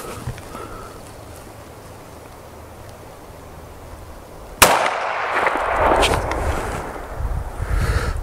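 A single sharp, loud report from a .30-30 rifle fired with iron sights at a target 50 yards away, followed by a rumbling decay and outdoor wind noise.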